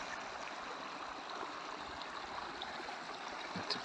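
A mountain stream near the Anayet lake in the Spanish Pyrenees flows with a steady, soft rushing and babble, faint and continuous without voices.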